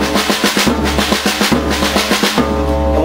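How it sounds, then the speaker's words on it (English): A drum kit plays an exercise with the bass drum on the first beat of each phrase. The strokes come fast and even, close and loud, with a steady low thump recurring under the pattern and no talking. "we're going to start off by putting the bass drum on the very first beat."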